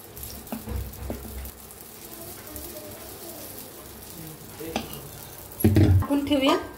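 Appe batter dropped into a hot appe pan greased with ghee, giving a low sizzle with a few stirring clicks, then a louder burst of frying near the end.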